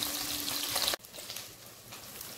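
Tangra fish frying in hot oil, a steady close sizzle with wet crackle that drops off abruptly partway, then a quieter, thinner hiss continues.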